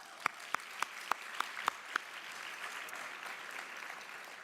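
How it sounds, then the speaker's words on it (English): An audience at a university student leadership awards ceremony claps, a few sharp isolated claps standing out before a soft, sparse patter of applause fades in the room. "Let's give everybody a round of applause."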